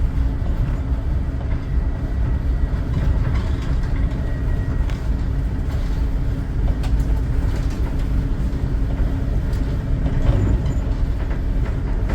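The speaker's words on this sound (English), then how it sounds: "The Acela should be approaching very soon" An Amtrak Acela train on the Northeast Corridor near Kingston rushes by close and loud for about twelve seconds, a steady roar with rattling clatter and faint bird calls in the background.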